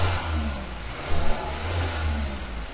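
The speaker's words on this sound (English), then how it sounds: "Let me sit in the car and just rev it here just a little bit while we're not moving" A Kia K5 with a 1.6L turbo engine and cold air intake revs while parked, a steady mid-pitched engine drone rising in a short louder burst of throttle before settling back, heard from inside the car.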